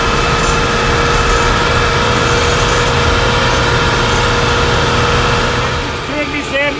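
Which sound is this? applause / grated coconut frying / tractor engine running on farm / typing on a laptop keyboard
tractor engine running on farm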